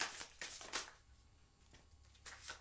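Tarot cards riffle and flap in quick close bursts of shuffling. The bursts are separated by a quieter pause and stay soft overall, with no talking.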